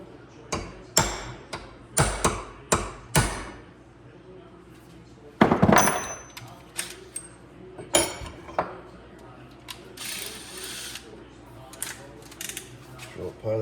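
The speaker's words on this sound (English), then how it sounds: "Center punch on the line." Center punch struck with a hammer on a steel line during a smoker firebox door build, giving a series of sharp metallic taps in irregular groups, close and loud.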